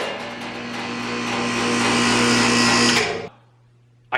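A 36-inch sander running with a loud, steady mechanical whine and hum that swells slightly, then cuts off sharply near the end, leaving a low residual hum before a brief knock.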